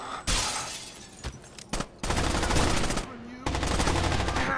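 Loud bursts of automatic weapon fire in the co-op shooter Rainbow Six Vegas 2, arriving in several separate volleys with short gaps between, mixed with sharp impact and glass-breaking cracks.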